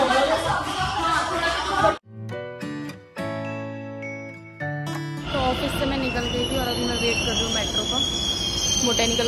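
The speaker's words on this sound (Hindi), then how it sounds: "बोटैनिकल गार्डन की मेट्रो आ गई है सामने" Delhi Metro train arriving at Botanical Garden station, with rumbling wheels and squealing rails, a brief gap of tonal station sounds, then loud rolling motion, with platform chatter in the background.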